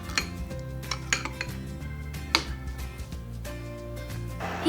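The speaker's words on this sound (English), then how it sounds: "Pour in about 200 milliliters of water and mix well." Water being stirred into a bowl of tofu batter with a utensil, several light clinks and scrapes against the bowl over a steady kitchen background, close and moderately loud.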